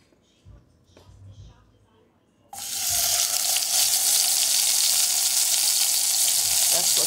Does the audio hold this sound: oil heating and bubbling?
yes